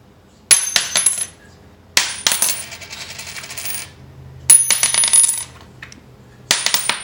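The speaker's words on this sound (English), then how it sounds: "The silver quarter always has a higher ping to it." Silver quarters slammed down onto a hard surface, four separate strikes each giving a bright high ringing ping that shimmers and fades, close and loud with quiet gaps between.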